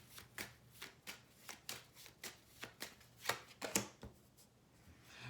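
Tarot cards being shuffled by hand give a series of quick, crisp riffling swishes and taps at a steady, loose rhythm, close and quiet with no talking.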